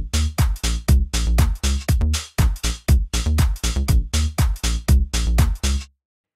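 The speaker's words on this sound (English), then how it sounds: "it's a simple beat in the bassline" A simple electronic beat with a bassline, programmed in Ableton Live, plays alone: loud, punchy kick-driven pulses with a deep bass pattern in a steady rhythm, stopping abruptly near the end.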